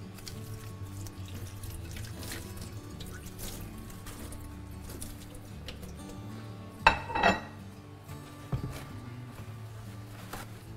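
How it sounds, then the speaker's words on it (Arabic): A bowl is washed under a running kitchen tap during a cooking session for Armenian nazook, with a steady low water hiss broken by a few sharp clinks and clatters of the dish against the sink. "نغسل الماعون مالتنا"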